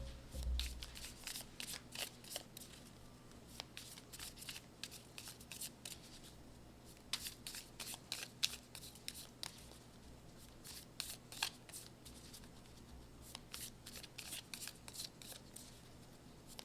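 Tarot cards are shuffled and drawn from a deck in a quiet room, with a steady run of soft, rapid riffling flicks and slaps that comes in bursts and pauses between them.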